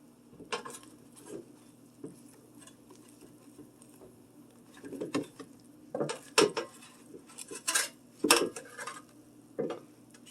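Grilled cheese sandwiches are flipped in a buttered pan, giving scattered scrapes, soft taps and clattering bursts of spatula against metal over a faint background hum.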